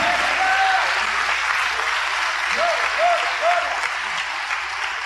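Congregation in a church service applauding steadily, a dense wash of clapping that holds for the whole stretch with a few faint voices calling out over it.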